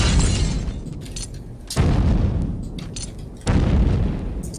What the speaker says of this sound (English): Just throw grenades at this dish.